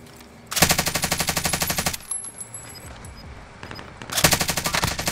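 Two long bursts of rapid automatic gunfire rattle out in the Warzone video game on Rebirth Island, close and loud, separated by a quieter gap with faint metallic clinks.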